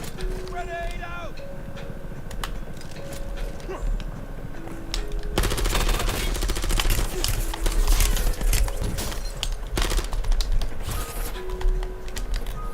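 Automatic gunfire in Call of Duty Black Ops 7 Zombies, with dense rapid bursts growing louder midway under steady game noise while someone talks over it.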